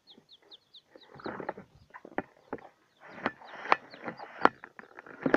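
Newly hatched chicks give rapid high peeps while adult chickens cluck and rustle nearby, a busy run of short calls that grows louder and denser toward the end.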